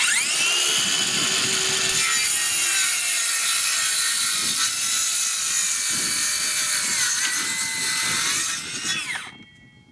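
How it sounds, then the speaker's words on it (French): A Ferm CSM1047 20V cordless circular saw cuts through wood with its blade rubbing, a loud steady whine and grinding rasp running for about nine seconds before the saw winds down at the end. "Et là on voit clairement que la lame frotte, qui finalement ralentit l'avancement de la machine."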